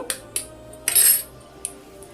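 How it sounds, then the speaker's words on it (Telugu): An egg is beaten into marinated chicken pakodi batter in a bowl: a few sharp metallic clinks against the bowl, then a brief louder scraping burst and one more clink, close and with no talking. "ఒక ఎగ్గు కొట్టుకుందాం ఫ్రెండ్స్"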